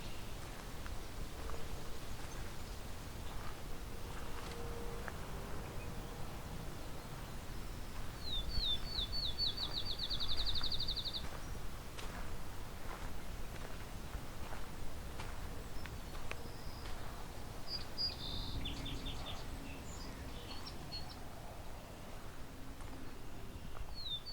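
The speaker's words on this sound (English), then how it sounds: "Field sparrow." A field sparrow sings faintly outdoors on a walk, giving two short runs of high, thin, quickly repeated notes over a low, constant background hush.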